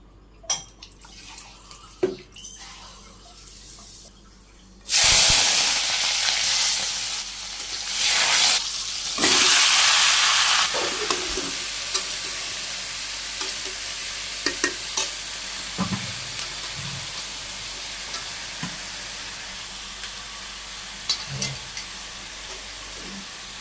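Vegetables sizzle loudly in a hot pan while being stirred, with bursts of hissing frying and intermittent scraping of a utensil against the pan, continuous and close after a quieter start.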